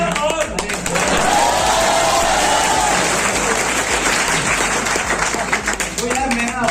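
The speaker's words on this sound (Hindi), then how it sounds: "सुनो सर कह रहे ताली बजाओ मेरे लिए।" A hall full of students at a Lucknow coaching event bursts into loud, sustained clapping that stays dense and even for several seconds, with crowd voices mixed underneath.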